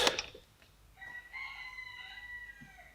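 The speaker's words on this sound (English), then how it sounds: "Chickens!" A rooster crows once in the distance, a drawn-out harmonic call rising and holding for about two seconds after a brief clatter at the start.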